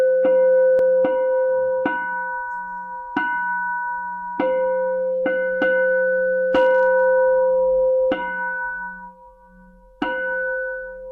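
Buddhist temple bell struck repeatedly during a prayer service, about ten ringing strikes at uneven intervals, each leaving a sustained metallic hum that overlaps the next, loud and close with no talking.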